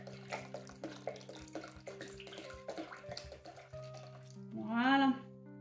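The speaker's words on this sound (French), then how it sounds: "On ajoute l'eau." Water poured from a bottle into a Thermomix for peach nectar, a short rising gurgling pour near the end, heard after a stretch of steady background hum and clatter.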